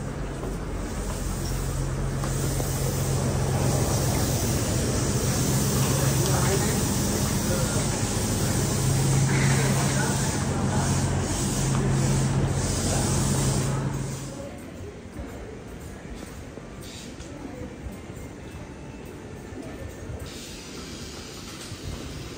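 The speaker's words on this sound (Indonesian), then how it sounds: "seperti itulah perjalananku kali ini naik kereta cepat Wus dari Jakarta menuju ke Bandung" Steady broadband rumble and hum inside the moving Whoosh high-speed train from Jakarta to Bandung at night, a constant roar that drops noticeably partway through and continues more quietly.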